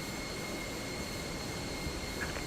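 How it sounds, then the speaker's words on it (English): Steady jet engine roar of an airliner in a flight simulator, heard from outside the aircraft during a low-visibility flight from Manchester to Lisbon, a constant loud broadband drone with a faint high whine and no talking. "Engine is quite loud. It might be just because I'm outside."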